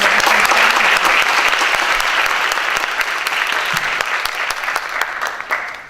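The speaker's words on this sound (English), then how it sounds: "So a round of applause to both teams" Audience at a Hong Kong secondary school English debate grand final applauding both teams, a dense burst of clapping that fades slightly toward the end, with no speech over it.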